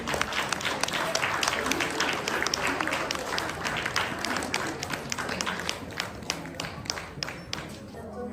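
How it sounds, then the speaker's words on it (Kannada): Loud audience clapping welcomes two speakers onto a stage at a Ugadi festival event. The individual hand claps stay sharp and rapid, close and steady across eight seconds, with a little crowd noise mixed in. "ಜೋರಾದ ಚಪ್ಪಾಳೆಯಿಂದ ವೇದಿಕೆ ಮೇಲೆ ಸ್ವಾಗತ ಮಾಡಿ"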